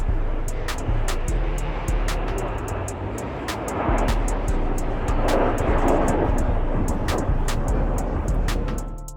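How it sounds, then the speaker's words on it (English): Red Arrows jets roaring through an air display at the Goodwood Festival of Speed, a loud, sustained broadband rumble that swells and fades as they pass, with sharp crowd and camera clicks scattered over it. "I'm loving this air display showing the red arrows."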